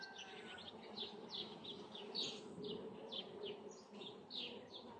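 Honeybees drone around an opened hive holding stored pollen, a faint, continuous buzzing hum with insects passing close now and then, and no voices.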